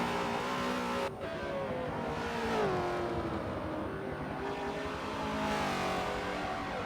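V8 NASCAR truck engine at Watkins Glen revs and drones continuously, its pitch rising and falling with throttle, heard steadily at a moderate distance with no talk over it.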